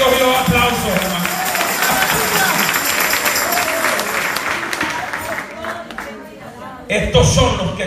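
A church congregation breaks into loud, sustained applause that fills the room with dense clapping for several seconds, tapering slightly before a final burst near the end.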